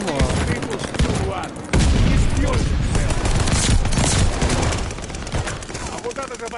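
Rapid machine gun fire rattles loudly in Call of Duty Vanguard, dense overlapping bursts with a short break, while a player talks over the gunfire.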